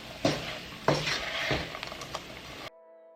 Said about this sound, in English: The peanut is getting coated by the sugar. Gonna keep stirring.